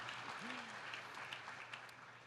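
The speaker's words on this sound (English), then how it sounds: "don't mean to cut off the applause" A town hall audience with President Obama applauds in a steady, fairly distant wash of clapping that runs the whole time, with a brief voice rising through it.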